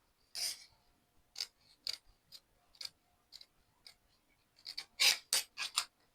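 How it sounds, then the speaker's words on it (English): Scissors cutting fabric for a small child's bubu dress, a string of short crisp snips spaced irregularly and then coming quicker in a final cluster, close and quiet, with no talk. "Then you just cut it from here, cut it down, slant it."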